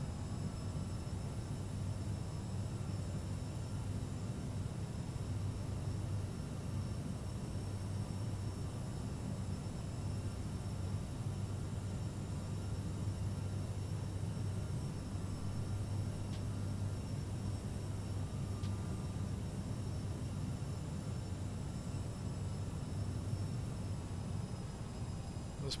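Steady airplane engine drone from Microsoft Flight Simulator 2020 during an emergency landing after leaving Zurich Airport, a dense continuous roar with a low hum that holds level for the whole stretch, with no talk over it.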